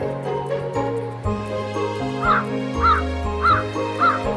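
A crow caws four times at an even pace, clear and close, over steady background music.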